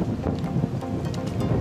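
Strong wind gusting over open water on the Frisian lakes, a loud, rough buffeting roar with splashing wave noise, close and continuous for a brief moment with no voices.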